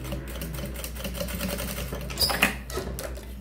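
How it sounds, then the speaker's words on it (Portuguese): A sewing machine runs steadily, stitching a seam on a fabric bum bag, its fast even motor chatter filling the whole stretch close up, with a brief louder clack near the end and no talking. "vou passar uma costura"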